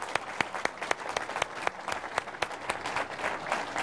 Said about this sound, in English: I would like a round of applause for our speakers.